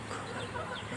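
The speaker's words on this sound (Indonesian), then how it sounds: "sisa-sisa makanan yang diberikan kepada ayam-ayam ini" Hens in a backyard peck at leftover rice, making soft, low clucks that sit faintly in a quiet morning background.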